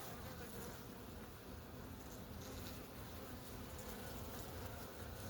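Honeybees at a hive, being fed while a new queen is introduced, make a dense, continuous buzzing drone, steady and close throughout with no voices.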